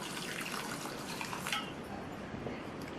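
Water streams into a cooking pot of cut snake gourd seasoned with turmeric, sambar powder and salt, a steady soft splashing pour that runs evenly throughout with no voices.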